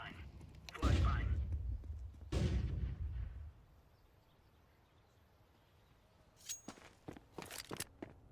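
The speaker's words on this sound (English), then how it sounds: "Throwing flashbang." A flashbang grenade thrown in Counter-Strike 2, with two loud booming bursts close together near the start, then a quiet stretch followed by scattered footsteps and clicks.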